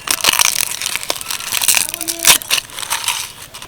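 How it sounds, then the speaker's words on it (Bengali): Dried home-grown bay leaves torn into small pieces by hand, close and loud, a run of dry crackling crunches and crinkles in quick irregular bursts with no voice over them. "তেজপাতাগুলো দিয়ে দিচ্ছি আর তেজপাতাগুলো কিন্তু আমাদের বাড়ির গাছে তেজপাতা একদম স্বচ্ছ আর পরিষ্কার এই যে আর দু হাতে টুকরো করে দিচ্ছি"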